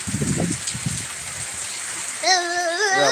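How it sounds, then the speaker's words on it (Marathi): Heavy monsoon rain pouring down in a rural village, a dense continuous hiss of drops on surfaces, with a few voices talking briefly at the start and a faint whining tone near the end. "भरपूर पाऊस चालू झाला"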